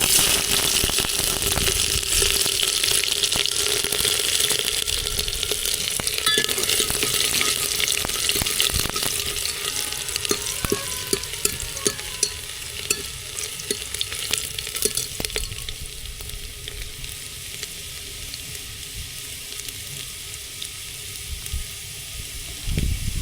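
Ginger frying in a pan as the base for a moong and masoor dal, a loud steady sizzle with clicks and scraping stirs that eases slightly in the second half.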